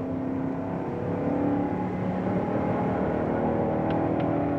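A heavy 1969 Dodge Daytona Hemi race car drones steadily at high revs around a track, a continuous mechanical roar with faint higher whines, heard from inside or close to the vehicle.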